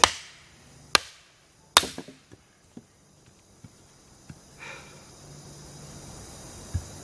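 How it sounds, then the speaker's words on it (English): A hammer strikes a hunk of wood at a solo campsite, with several sharp, isolated impacts, two loud ones early and then lighter, scattered knocks, spaced irregularly over quiet outdoor background. "All this to split a hunk of wood to show you guys."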